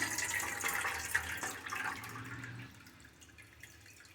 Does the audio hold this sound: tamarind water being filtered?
yes